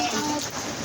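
A steady hiss of heavy rain falls continuously over a brief moment outdoors, dense and even, with no clear talk above it.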